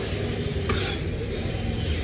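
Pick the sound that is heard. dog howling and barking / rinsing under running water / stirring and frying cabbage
stirring and frying cabbage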